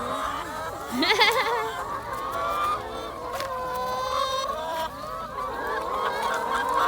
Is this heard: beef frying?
no